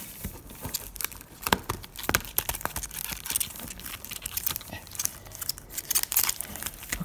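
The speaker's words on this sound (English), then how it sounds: "let's shuffle this one." A deck of Magic: The Gathering cards is shuffled by hand, giving a string of irregular crisp riffles, snaps and flicks with quick bursts close to the microphone and no talking.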